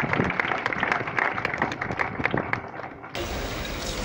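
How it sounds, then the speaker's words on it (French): Applause from the audience at the inauguration of the Maison des Cultures Urbaines in Ouakam as the commune's mayor steps up to speak: dense, steady clapping with crowd noise for about three seconds, then a shift to a flatter, broadband room sound. "Sous vos applaudissements"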